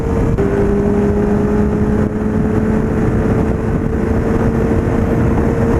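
A motorcycle riding into town with a steady engine drone and a faint high whine, under heavy continuous wind roar that stays loud throughout, with no talk.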